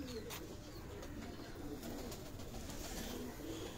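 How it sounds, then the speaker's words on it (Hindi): Hino pigeons coo softly at a breeder's loft, a low murmuring coo repeating through a steady hum of ambient noise. "ये जी ये हिनो कबूतर है"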